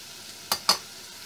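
Chopped spring onion hits a hot pan, producing two quick, sharp sizzling, scraping bursts close by, then a quiet hiss.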